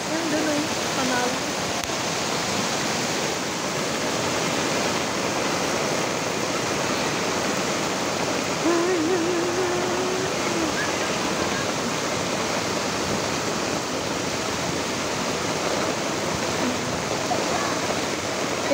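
Floodwater rushing in a swollen river and canal during Typhoon Kristine, a loud continuous roar of churning water close by, with brief faint voices beneath it.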